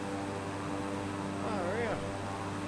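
Steady propeller airplane engine drone from a Flight Simulator game flying over Japan, continuous and fairly loud throughout, with a brief rising and falling tonal sweep partway through.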